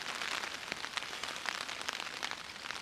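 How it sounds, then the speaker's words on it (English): Heavy rain drums steadily on a tent during a wild camping trip, a dense, continuous patter close overhead with no voices. "Yeah, so the rain"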